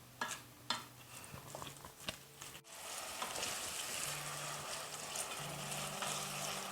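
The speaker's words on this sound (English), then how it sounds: "So my onion and garlic is simmering a little bit here." Chopped onion and garlic sizzle steadily in a pan for a baked mac and cheese, a soft continuous frying hiss at close range, preceded by a few light clinks of utensils.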